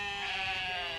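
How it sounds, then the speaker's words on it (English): Sheep bleating on a golf course, a single sustained, wavering bleat lasting about a second, close and fairly loud with no talk over it. "Are those sheep?"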